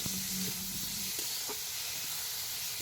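Onions, bitter gourd and tomato frying in a pan, a steady close sizzle and hiss of hot oil broken by soft scraping knocks of stirring.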